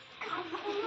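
Chickens at a village home cluck softly as they feed, a brief run of close, moderate calls with no talking.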